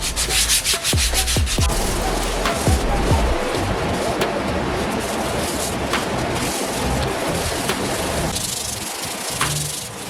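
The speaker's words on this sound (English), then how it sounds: "I got a piece of 220 grit that I'm just gonna be going over and just doing a light scuff by hand" Plastic bumper parts from a Cateye Silverado are hand scuffed with 220 grit sandpaper, giving a continuous close scratchy rubbing with a few faint knocks at the start and no pauses.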